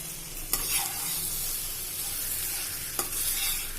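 Grated raw banana frying in a pan with onion, a continuous loud sizzle under two distinct scraping stirs near the start and end, with no voices.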